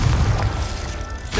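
A Confringo fire spell explodes in Hogwarts Legacy, a deep, loud boom that rumbles on for over a second before fading slightly.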